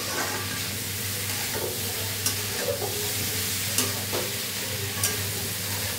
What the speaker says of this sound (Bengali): এরকমভাবে কষিয়ে কষিয়ে নিলেই অর্ধেক সেদ্ধ হয়ে যাবে